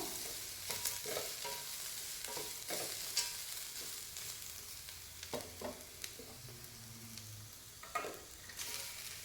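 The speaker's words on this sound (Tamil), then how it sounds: "அதையும் போட்டு லைட்டாக வதக்கிட்டு நம்ம கழுகி வச்சுருக்கிற இந்த அவுளையும் போட்டு கிண்டிக்கணும்" Coconut and red rice flakes are stirred and sautéed in a pan, producing a soft continuous sizzle broken by repeated scraping and tapping strokes of a spatula against the pan, without speech.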